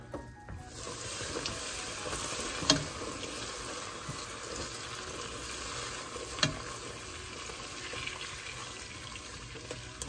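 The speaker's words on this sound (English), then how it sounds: "we're going to wait for our butter to get browned" Butter (two-thirds of a cup) slowly browning in a pan, a faint, even sizzle and hiss held throughout, with two light clinks of a utensil against the pan, quiet and close.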